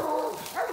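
A raccoon hunting dog gives a short, whining bark-yelp at a treed raccoon, close and brief, over a faint background hum.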